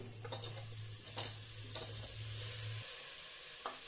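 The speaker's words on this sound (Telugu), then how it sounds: "ఇందులో వెజిటేబుల్స్ మష్రూమ్ని యాడ్ చేసుకుంటున్నాను" Vegetables and mushrooms sizzle in a pan with garlic paste while a utensil stirs and scrapes through them. The frying hiss is steady and close, with a few soft stirring knocks and no talk.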